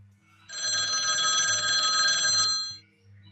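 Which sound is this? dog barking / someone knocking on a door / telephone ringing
telephone ringing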